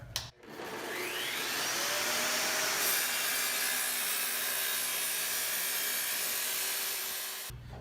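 An IQ TS244 saw making a 22.5-degree cut through a clamped piece, a steady loud whine with the blade grinding through the material for about seven seconds before spinning down.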